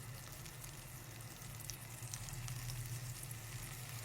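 A kilo of raw chicken goes into hot masala in a pan for Shahi Degi chicken korma, giving a soft, steady sizzle and bubbling that holds evenly throughout at low volume.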